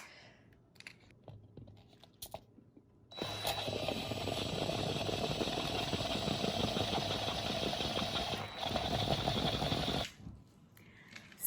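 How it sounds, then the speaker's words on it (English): A drill fitted with a larger bit bores into a Christmas ornament, a close, steady grinding motor whir lasting about seven seconds between quieter handling noises. "And now we're gonna go with a bigger drill bit."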